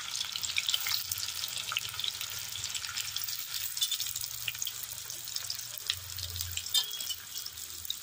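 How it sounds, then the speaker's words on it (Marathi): Peeled garlic and onion sizzle in well-heated oil as tempering for roasted brinjal bharit, a steady close crackle and hiss with faint clinks of a pan, no voices. "आता आम्ही भरीत वांग्याला फोडणी देतोय"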